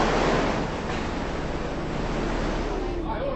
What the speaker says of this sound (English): One man on the beach has no choice but to stand up to the oncoming wave.